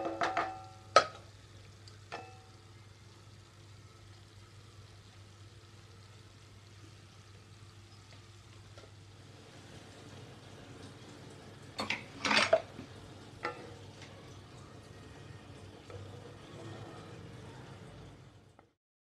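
Keema cooking in a pan after ground tomato pulp is added: a soft, steady sizzle runs throughout, broken by a few metal clanks of a spoon against the pan near the start and again midway, with no voices.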